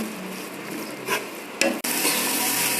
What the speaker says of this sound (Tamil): அரைச்ச தேங்காயை இதில் போட்டுடலாம் நல்லா பெரட்டி விட்டுடலாம்